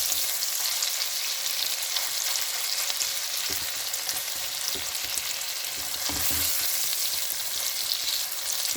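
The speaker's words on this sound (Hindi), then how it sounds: "प्याज जो है फ्रेंड्स ये हमारा ब्राउन हो रहा है" Steady hiss and crackle of onions sizzling in a hot pan, with a few soft clinks of stirring, no voices.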